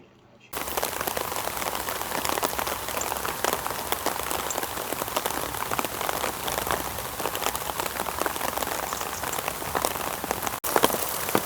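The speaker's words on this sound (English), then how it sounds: "I don't even know if you're actually going to be able to hear me for the rain" Heavy rain pours down as a loud, dense, unbroken hiss of drops on surfaces, starting abruptly after a brief silence and continuing alone throughout.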